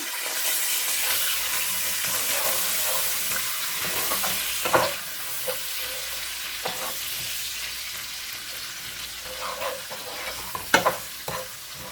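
Ground cumin powder and garam masala frying in a pan, stirred steadily with a spoon: a continuous close sizzle with scraping strokes and a few sharper clinks, no talking.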